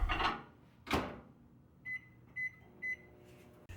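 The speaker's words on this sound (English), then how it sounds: "I'll heat them in the microwave on high for 1 1/2 minutes" A microwave oven hums low and steady on high, heating cinnamon roll wet ingredients in a bowl, with three short electronic beeps from its keypad after some brief handling noises.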